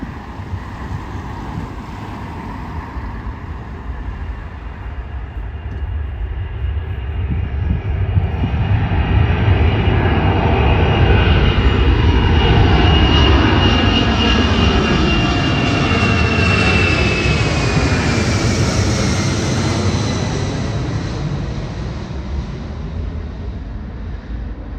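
A Royal Air Force jet passes overhead as a loud, broad roar that swells over several seconds, peaks near the middle, then slowly fades while still rumbling, with some wind buffeting on the microphone.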